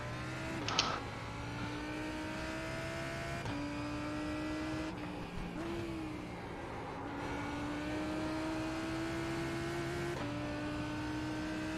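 Lamborghini Huracan GT3 EVO in iRacing at Virginia, its engine droning loudly and steadily throughout as it climbs through the gears, with pitch dropping at each upshift around the 3.5, 5.5 and 10.5 second marks.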